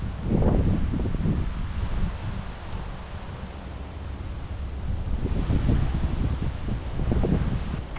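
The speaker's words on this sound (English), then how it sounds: "this wind in the open is gonna be a monster to take down" Strong gusty wind sweeps across an open disc golf course, a roaring buffeting rush against the microphone that swells and eases in gusts, with no voices.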